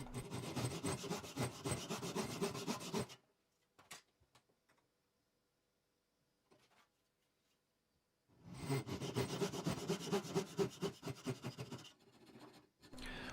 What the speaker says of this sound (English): I'm just going to basically rasp out the rest of the shape and then just finish up the job with some sanding paper